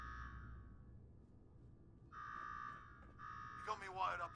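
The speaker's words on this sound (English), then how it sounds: "Now go shut off that damn alarm." An alarm rings in Fallout 4, sounding as repeated long, steady electronic buzzer tones with pauses between them at moderate loudness, and then a voice starts talking over the end.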